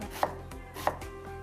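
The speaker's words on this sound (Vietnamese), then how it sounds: "Trước khi làm mình phải thái nhỏ cái hoa chuối." Knife chopping banana flower finely on a board for a steamed pork dish, two heavy, evenly spaced chops, close and distinct against a steady background hum, with no talking.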